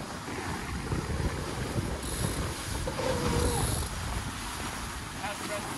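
A J105 racing yacht planes downwind at twelve to thirteen knots on flat water, making a continuous close rush of hull spray and wind over the microphone. Voices can be heard under the noise.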